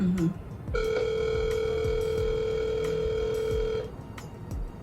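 A telephone rings during a call, one long ringback tone of about three seconds in the earpiece, with faint background voices before and after.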